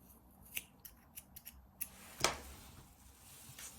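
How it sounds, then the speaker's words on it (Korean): Scissors snip crochet yarn on a handmade crochet bag: several quiet separate clicks and cuts, one sharper snip in the middle, close and alone. "또 가위로 잘라줄게요."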